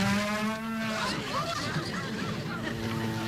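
A cow lets out a long, low moo that holds steady, with some background noise around it.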